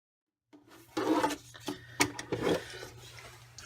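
Caterpillar Pro paper trimmer slicing cardstock: a few short, close rasping strokes and clicks as the blade is drawn along, coming in brief uneven bursts against a quiet background.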